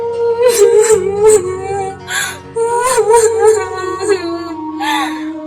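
A cartoon bird bursts into tearful whimpering and sobbing, a voiced imitation of crying with wavering, high, repeated sobs, close and loud.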